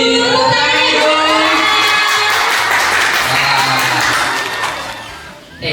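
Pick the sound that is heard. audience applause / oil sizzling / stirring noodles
audience applause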